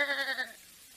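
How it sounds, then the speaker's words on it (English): A single loud, wavering sheep bleat in a radio drama about Louis Pasteur, fading quickly into quiet. "That sheep doesn't seem to agree with you, Dr. Radice."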